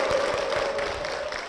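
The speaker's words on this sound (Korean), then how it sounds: "박수로 모시겠습니다" Church congregation applauding as a deaconess is welcomed to the front during a testimony service, a steady wash of clapping with a faint sustained tone running underneath throughout.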